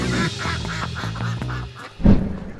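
Several Solo laying ducks quack in a dense, overlapping chorus at close range, with rapid repeated calls and a louder burst near the end, no talking.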